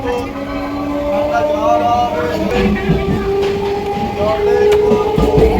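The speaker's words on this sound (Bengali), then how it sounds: "ট্রেন পেয়ে গেছি, ট্রেনে উঠে ট্রেন ছেড়ে দিয়েছে" Passenger train running along the rails on an afternoon journey, a steady rumble and rolling clatter heard from inside the carriage, with a continuous drone throughout and voices faintly mixed in.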